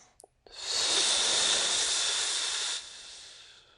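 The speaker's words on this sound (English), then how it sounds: "I'm breathing the exhale out through the mouth to help engage the core" A forceful yoga exhale blown out through the mouth, a steady breathy hiss held close for about two seconds after a couple of faint clicks, then trailing off quietly.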